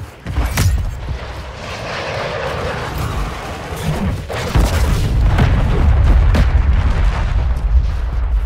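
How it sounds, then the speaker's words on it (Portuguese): Grenades explode in the video game Call of Duty MWIII, a loud close boom that rolls into a long, heavy rumble with further blasts and gunfire layered throughout. "Granada lançada!"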